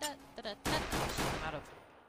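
A burst of gunfire from a gun in the Roblox game Topia, one quick loud volley after a moment of quiet, then fading, with faint game sounds before it.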